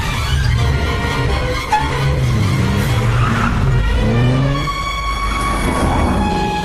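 An auto rickshaw swings around with tires skidding and squealing, a loud continuous engine-and-road roar filling the whole stretch with rising and falling screeches on top.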